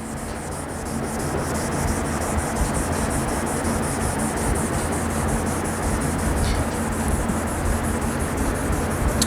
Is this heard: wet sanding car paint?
yes